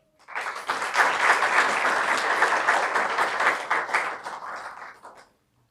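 Congregation clapping together during a Sunday church service, a dense, loud round of applause that swells quickly, holds steady for several seconds, then fades out.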